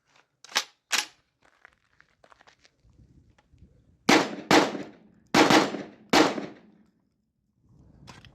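A Genesis 12 shotgun fires Winchester AA 1-1/8 ounce shells in a series of sharp, close, loud blasts, two early shots followed by a quick run of four, with faint handling noise between.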